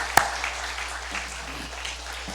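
Applause from an audience at a Sabbath church service during a health seminar, a steady broadband patter filling the room after one sharp louder clap at the start, with faint voices underneath.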